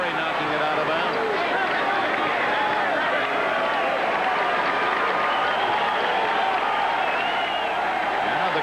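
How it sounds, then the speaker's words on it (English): Basketball arena crowd at an NBA playoff game, Phoenix Suns at Houston Rockets in 1994, roaring and applauding in a dense, continuous swell of cheering while a commentator talks over it. "Now the crowd getting into it."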